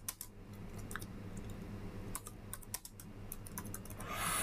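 Typing on a computer keyboard, including an Enter key press, while working in MS Word: clusters of crisp, close keystrokes with short pauses between them over a steady low background hum, with no one speaking.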